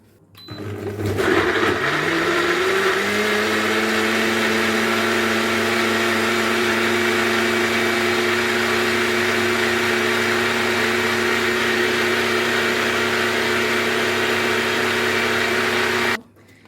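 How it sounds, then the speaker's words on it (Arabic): An electric kitchen blender whirs through cut ingredients for a slimming drink. After a sharp start-up, a loud, steady motor drone runs unbroken for about fifteen seconds, then cuts off. "هنقطعها وهنحطها ايه في الخلاط اهو. هنضربها بقى"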